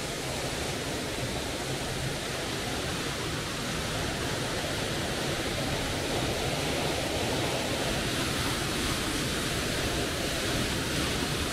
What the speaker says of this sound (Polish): ukryty podziemny wodospad